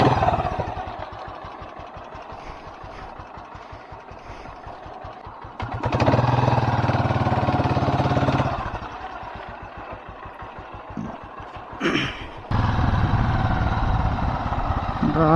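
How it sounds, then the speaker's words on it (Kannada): A Royal Enfield Thunderbird AVL 350 motorcycle starts up and idles with a steady, loud thumping beat. The engine revs louder for a couple of seconds, then settles back into its chugging single-cylinder idle. "ಬನ್ನಿ ಫಸ್ಟ್ ಗಾಡಿನ ಸ್ಟಾರ್ಟ್ ಮಾಡ್ಕೊಳ್ಳೋಣ"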